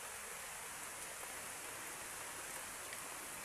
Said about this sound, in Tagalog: Ay nabuhos pa. Ano na ring ulan na eri.